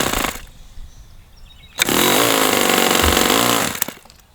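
A Magnum XL 30 RFS model engine with no throttle stop screw runs at a loud, steady high-pitched buzz for about two seconds, then cuts out and dies, close up with no talking.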